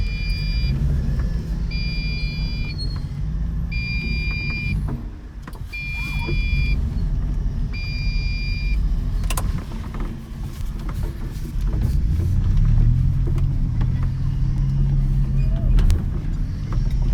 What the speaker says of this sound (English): So we're now driving down Ferry Hinksey Road.